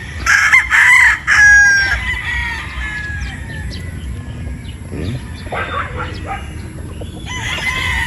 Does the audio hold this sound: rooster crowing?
yes